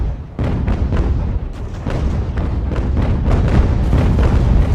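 Sailing-ship cannons firing in the naval game Ultimate Admiral: Age of Sail, a dense, loud barrage of booming shots rolling one after another over a constant low rumble, with no pause through the whole stretch.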